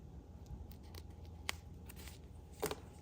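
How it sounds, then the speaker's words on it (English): Scissors snipping the fingertip off a glove, a couple of quiet, sharp cuts standing out against a soft room background. "I'm just gonna cut a fingertip out"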